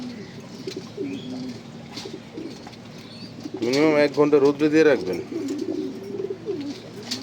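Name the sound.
pigeon chicks cooing in the sun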